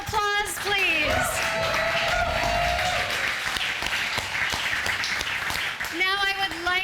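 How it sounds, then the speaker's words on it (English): An audience at a stage event on art applauds: dense, continuous clapping fills the room at moderate loudness, with a voice speaking briefly at the beginning and again at the end. "another big round of applause"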